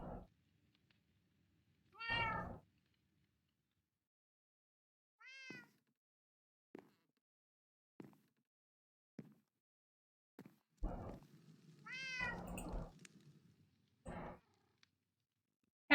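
Several cats meow inside a video game, voiced as separate drawn-out calls spread across the stretch, some rising and falling, with a few faint clicks and short game sounds between them and no talking.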